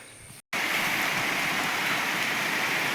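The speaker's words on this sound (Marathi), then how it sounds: "मित्रांनो आता बाहेर पाऊस चालू आहे दोन दिवस झाले भरपूर पाऊस आहे" Heavy rain pours outside on a farm, a loud, unbroken roar of falling water that starts after a brief cut and runs steadily with no voices.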